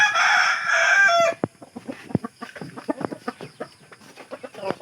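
A rooster crows loudly and close by, then chickens cluck and peck in quick scattered bursts.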